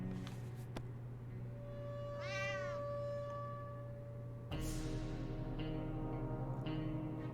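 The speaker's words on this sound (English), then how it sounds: "We apparently got a cat from that." A cat meows once in the survival video game 60 Seconds, a clear rising-and-falling cry over a steady hum of game background music, with no talking.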